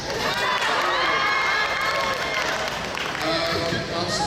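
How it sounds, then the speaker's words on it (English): A school crowd cheers and shouts in a gym during a back-to-school welcome, a loud, continuous roar of many voices with children's yells and scattered claps. "Y'all ready to cheer?"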